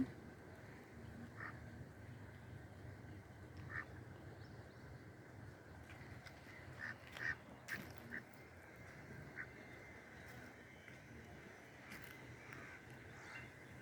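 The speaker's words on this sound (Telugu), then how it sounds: "పోతు బాతు స్వరం అనేది చిన్నగా ఉంటుంది ఆడబాతు పెద్దగా అల్లుద్ది" Ducks, drakes and females, quack in short scattered calls over a steady low murmur, one louder burst near the middle standing out against a faint, distant background.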